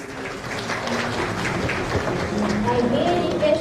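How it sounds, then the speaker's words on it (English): Delegates at a national chemical sciences conference applaud during a lamp-lighting ceremony. The clapping forms a dense, even patter, with voices and a few faint tones mixed in near the end. "Please give them a big round of applause."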